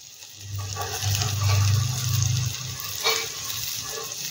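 Urad dal roshbora fry in oil over a medium flame, giving a continuous bubbling sizzle with a low, swelling rumble partway through and a brief crackling burst near the end. No one speaks.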